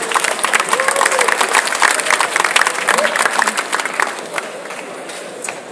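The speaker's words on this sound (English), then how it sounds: "Round of applause for the organizers," An audience at the ECHELON Asia Summit 2016 award ceremony applauds organizers and judges in a dense, loud burst with some cheering, then thins out near the end while a voice speaks over it.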